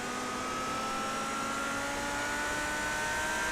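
A race car engine at Watkins Glen in a sim racing game, a steady, sustained high-pitched drone with slowly rising tone, close and continuous with no talk over it.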